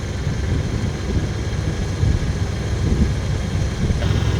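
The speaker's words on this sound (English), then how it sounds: "it's been idling for 5 minutes" A 1978 Chevrolet K20 truck engine, revived after sitting fifteen years, idles steadily close by with a dense, continuous low rumble and no talk over it.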